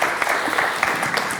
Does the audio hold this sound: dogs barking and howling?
no